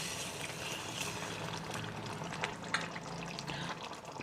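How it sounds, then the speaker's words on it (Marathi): About half a glass of water is poured into a pan of dry black bean curry cooking on a gas stove, making a steady, continuous watery rush at moderate level with no speech. "मी फक्त अर्धा ग्लास इतकं पाणी घातलेलं आहे"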